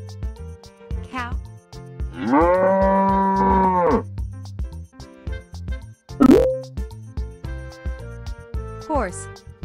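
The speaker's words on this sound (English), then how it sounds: "Cow." A cow gives one long, steady moo lasting a couple of seconds, set against cheerful music and occasional sound effects.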